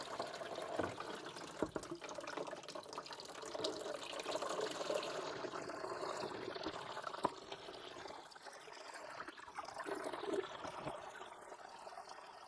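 Water from a hose sloshes and pours through a Renault Clio rocker cover being tilted and jiggled, a faint continuous splashing and trickling with occasional drips, no voices.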